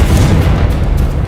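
A Confringo spell bursts in Hogwarts Legacy with a single loud, close, heavy boom that rumbles briefly.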